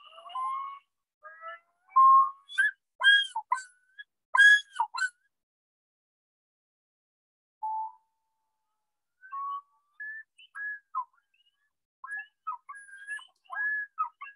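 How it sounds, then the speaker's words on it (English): A great northern diver (common loon) giving its yodel call: a few rising introductory notes followed by repeated wavering phrases, clear and loud against a silent background, with gaps between bursts. "this is a bird giving a yodel call"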